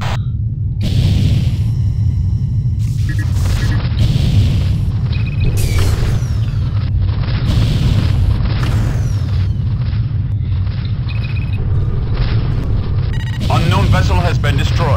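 A ship blowing up in the FreeSpace space combat game brings a loud, sustained low rumble and boom that runs the whole stretch, with other in-game effects layered on top.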